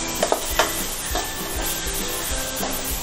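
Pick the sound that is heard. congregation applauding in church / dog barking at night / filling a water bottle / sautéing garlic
sautéing garlic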